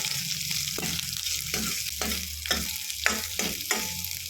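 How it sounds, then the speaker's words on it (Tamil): Small onions sizzle in a pan as a spoon stirs them for bottle gourd kootu, with regular scraping strokes roughly every half second over a continuous close frying hiss. "நல்லா வதக்கி விட்டுக்கலாம்."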